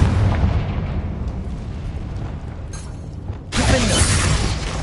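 A Confringo blast spell goes off in Hogwarts Legacy, a loud, dense fiery rumble that swells and then surges into a harsh crackling burst near the end, with no talk over it.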